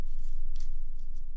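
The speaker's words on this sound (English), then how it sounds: "we're gonna cut open the avocado" A kitchen knife slicing into an avocado while making avocado chips, heard as short close scraping cuts with a couple of bright crisp strokes over a low steady rumble.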